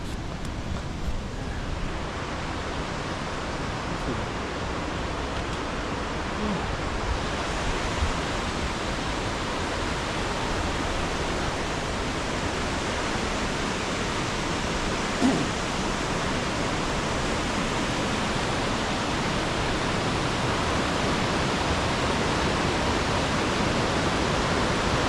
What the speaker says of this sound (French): Belle rivière, ça.